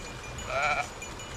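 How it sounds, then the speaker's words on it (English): A sheep bleats once in a short, clear call rising over a steady hum of background noise, suggesting a herd of sheep nearby with no one talking. "similar herd of sheep and cattle."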